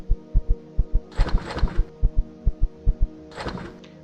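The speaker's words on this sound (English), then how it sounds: "that heartbeat sound that you hear is because I'm running low on stamina" A steady heartbeat thumps in Empyrion Galactic Survival, signalling low stamina, with loud, evenly spaced double beats and two short bursts of clattering game noise over it.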